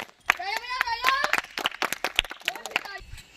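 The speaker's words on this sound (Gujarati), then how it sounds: "તાળીઓ બજાવો બંટાભાઈ" Several people clapping hands in a quick, uneven series of sharp claps, close by, mixed with excited voices and someone talking.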